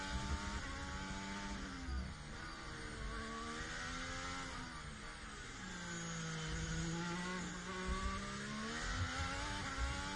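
A Formula 1 car at Spanish Grand Prix practice, its high engine whine rising and falling through gear changes and corners, faint and distant under a continuous broadcast background.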